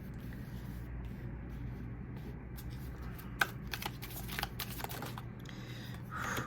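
A tarot deck is shuffled up close, a soft continuous riffle of cards with scattered sharper flicks and taps over a low background rumble, no voices.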